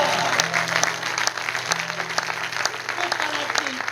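A church congregation claps in praise, a dense, continuous burst of applause with sharper individual claps standing out and some faint voices underneath.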